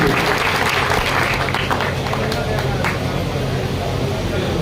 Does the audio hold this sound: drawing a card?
no